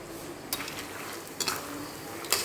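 Peanuts frying in a pan for chivda, a soft sizzle with stirring scrapes and three distinct clinks of a utensil against the pan, no voices.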